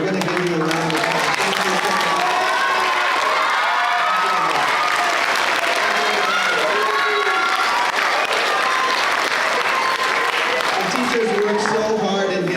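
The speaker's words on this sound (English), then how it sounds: "We're going to give you a round of applause." Audience applause for the teachers at a multicultural speech festival in a performing arts center, a dense, sustained wash of clapping from a large crowd that fills the whole stretch, with voices and light cheering mixed in.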